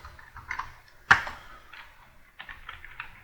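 Keys on a computer keyboard are tapped in short quiet clusters, with one louder sharp keystroke standing out, close and isolated.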